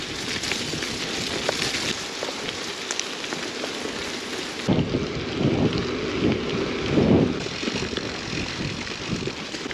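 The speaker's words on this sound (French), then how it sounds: "Bon déjà, les gouttes tombent moins." Rain patters steadily on surfaces during a bikepacking ride on a gravel bike, with gusty wind buffeting the microphone throughout and growing louder and rougher in the second half, no talking.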